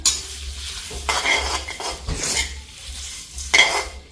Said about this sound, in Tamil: வெங்காய பாருங்க அளவான பதத்தில் வறுபட்டு கொண்டிருக்கேன்